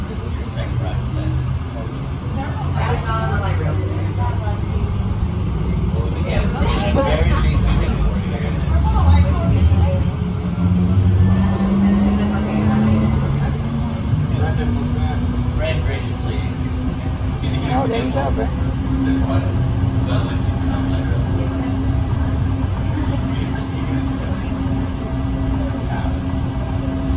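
Inside a moving light rail train leaving Brooklyn Village toward Carson, a steady rumbling drone with rising and falling motor whine runs throughout, while nearby passengers chat over it.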